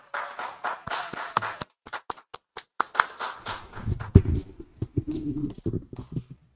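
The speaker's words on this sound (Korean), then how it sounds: "다 같이 큰 박수로 환영해 주십시오" Church congregation applauding at a Wednesday worship gathering to welcome a young women's group member to the pulpit: scattered, sparse claps thicken into a fuller room-wide round, with low murmuring underneath.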